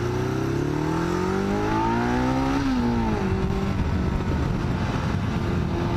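A motorcycle engine drones steadily and loudly, its pitch rising then dropping as it shifts through gears, with constant wind rush.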